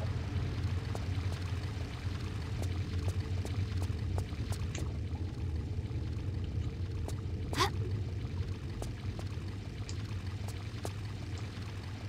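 Waterfall in Tomb Raider IV: The Last Revelation, Alexandria: a constant rushing, pouring roar of falling water that holds steady throughout, broken only by faint clicks and a brief sharp tick, with no talk.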